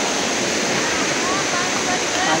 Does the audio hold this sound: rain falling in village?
yes